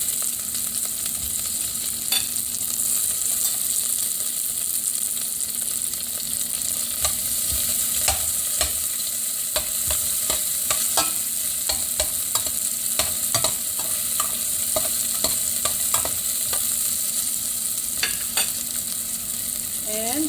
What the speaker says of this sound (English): I'm just going to have this garlic flavor and put in the onion.